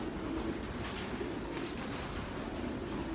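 Racing pigeons coo softly inside a pigeon loft, low repeated calls under a constant background murmur with faint rustling, no voices.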